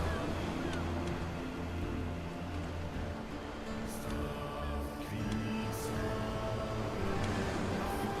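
Sailing ship at sea in Crusader Kings 3, with steady wash of waves and wind around a continuous low creaking hum of the vessel, held at an even level throughout with no talk.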